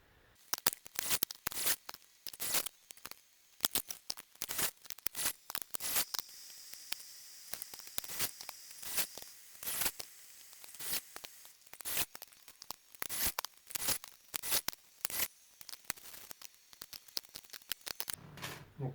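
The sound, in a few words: cutting cast iron piston rings to gap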